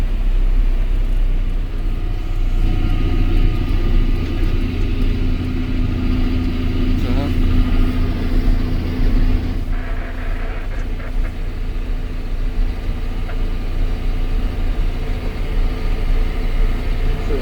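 A John Deere 6000-series Premium tractor engine runs steadily at about 1700 rpm, a loud continuous diesel drone with a low hum throughout.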